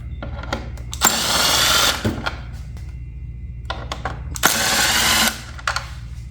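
Bolts being backed out of the top fairing covers on a 2008–2016 Yamaha R6 with a power tool, two loud bursts of high whirring separated by quieter handling clicks and knocks, close up with no talk.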